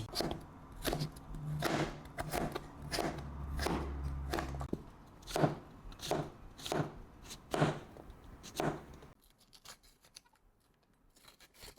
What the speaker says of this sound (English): Next, I cut the veggie. Slice them about half centimeter.